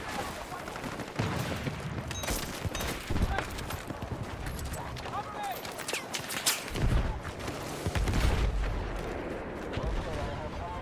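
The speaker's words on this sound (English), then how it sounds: "Every time I peek, you can hear the snipers." Sniper shots and heavy gunfire crack through a Battlefield 6 battlefield: repeated loud sharp reports at irregular intervals, some close and some distant, over a rumbling wartime din, with someone talking now and then.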